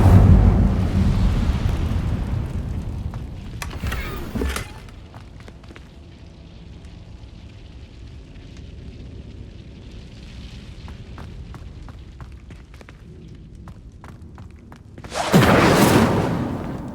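A fire spell cast in Hogwarts Legacy: a loud burst of flame at the start, a sharp whoosh near four seconds, a quieter crackling stretch, then a second loud fiery blast toward the end.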